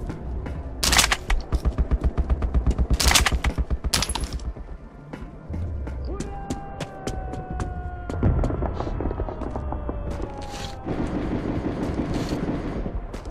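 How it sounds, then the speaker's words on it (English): Rapid automatic gunfire bursts from the video game Metro 2033, loud and rhythmic early on, followed by scattered shots, humming ambience and rising tonal game effects. "Whoever's shooting."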